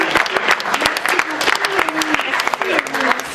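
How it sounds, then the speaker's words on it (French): An audience applauds a shy guest called up at a James Bond fan club's tenth-anniversary celebration, with sharp, uneven claps close by and voices talking over the clapping. "On applaudit Elie parce que..."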